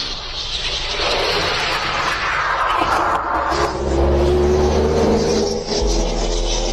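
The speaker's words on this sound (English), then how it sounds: "Wow, there's a lot of traffic." Continuous broad roar of road traffic passing outside a house at night, with vehicle engines swelling and a rising tonal whine near the end, loud and steady with no talking.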